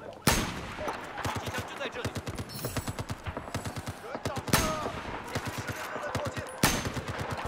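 Battlefield 4 multiplayer gunfire on PS4: rapid automatic bursts crackle steadily throughout, punctuated by a few louder sharp shots near the start and middle, with a voice talking over the shooting.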